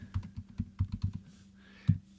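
Computer keyboard typing in bursts of quick clustered keystrokes, fairly close and clear, with a brief pause before one sharp final key press; no voices.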